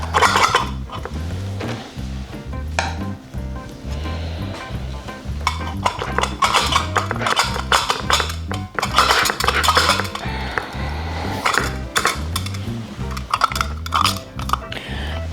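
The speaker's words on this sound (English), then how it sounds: "Let's just give these brushes a rinse." Paint brushes being rinsed, with repeated loud close clinks and rattles against a container, plus swishing water, in a fairly steady rhythm throughout.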